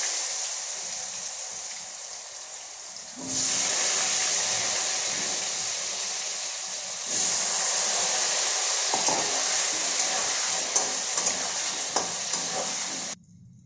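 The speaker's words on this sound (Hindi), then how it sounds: "आलू को फ्राई कर देबा।" Potatoes frying in a pan for an ilish fish curry, a loud continuous hiss of hot oil with stirring noises that grows louder partway through, no talk.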